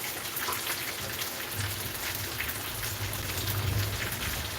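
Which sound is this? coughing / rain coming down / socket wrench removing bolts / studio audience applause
rain coming down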